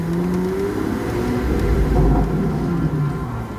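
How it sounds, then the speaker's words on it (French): The V12 engine of a V12 Speedster sports car, one of 88 built, revs loudly and close by with a deep, sustained roar that rises and swells over a few seconds. "Ah là, t'entends bien le moteur quand même."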